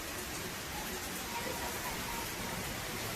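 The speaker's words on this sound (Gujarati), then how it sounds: "આ વરસાદ જો આયા લેમ્પેથી તમને ખબર પડી જાય કેટલો વરસાદ આવે છે" Heavy rain pours steadily onto a street at night under a street lamp, a dense, even hiss that stays constant throughout, fairly soft and continuous with no distinct drops standing out.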